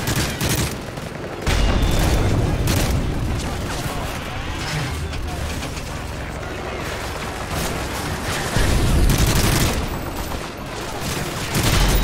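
Gunfire fills a Modern Warfare 3 video game scene as sustained loud volleys of rifle and machine-gun shots, some heavy booms mixed in. The firing keeps going for the whole stretch, close and relentless, with rising surges.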